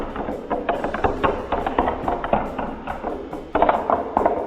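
A marble rolling and dropping through a stacked plastic Gravity Maze tower with zigzag pieces: rapid, close clattering clicks and rattles tumbling in an uneven rhythm, ending in a louder burst of knocks.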